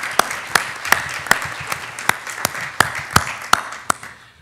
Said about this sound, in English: get a round of applause for all your work in support of it